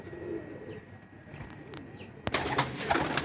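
Pigeons kept indoors coo softly and steadily in the background, and a louder burst of fluttering and shuffling comes near the end.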